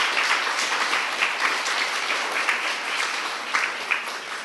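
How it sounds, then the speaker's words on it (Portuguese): Audience applause in a school, steady dense clapping from a group of people, fairly close and continuous with occasional sharper claps. "Um aplauso para Alexander."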